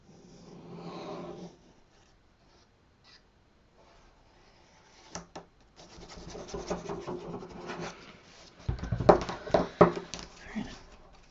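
Paper is burnished down by hand on a BoBunny Christmas Treasures craft card box, heard as soft, intermittent rubbing strokes that build to denser, louder bursts of scraping friction toward the end.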